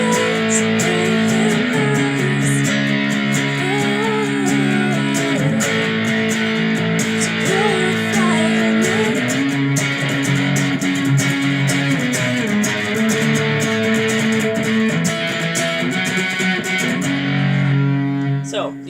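An electric guitar with distortion plays a song's chorus, a loud sustained run of strummed chords changing every few seconds with no voice over it.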